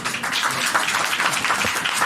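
Clapping from a church congregation during a sermon in Rawalpindi, a dense, steady patter of many hands that holds evenly through the whole short stretch with no voices on top.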